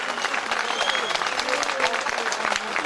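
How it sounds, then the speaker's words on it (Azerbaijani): An audience at a birthday jubilee party claps in sustained, even applause for the honoree, a dense crackle of many hands, with voices faintly audible beneath it. "bir alqışlar istərdim sizlərdən"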